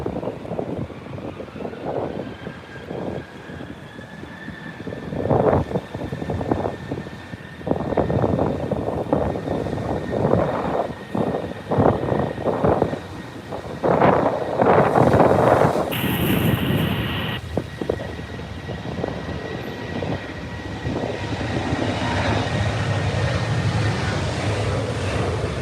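Strong wind buffets the microphone in loud gusts while a distant aircraft landing at Heathrow whines faintly and steadily underneath.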